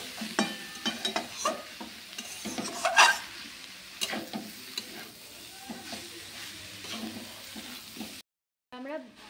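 Shredded cabbage being stirred and sautéed in a pan for a Bengali cabbage ghonto, with a steady sizzle and repeated scraping of a spatula against the metal, close and continuous until it stops abruptly near the end.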